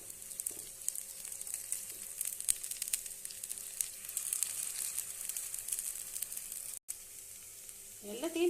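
Moong dal dosa fries steadily on a pan over low flame with a constant soft sizzle close by. Faint scraping comes near the end, with no talk.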